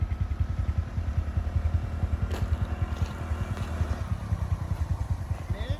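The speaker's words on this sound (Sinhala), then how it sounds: "ඔන්න අපේ චන්දුලා එනවා පේනවා බයික් එකේ." A motorcycle engine thrums with a steady, rapid pulse on a mountain road at Riverston, Sri Lanka, holding fairly even in loudness throughout with faint clatter and no clear talking.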